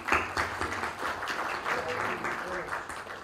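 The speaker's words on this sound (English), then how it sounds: "A big round of applause, ladies and gentlemen," An audience at a movie music launch event breaks into a burst of dense, continuous applause, with a voice talking over the clapping throughout.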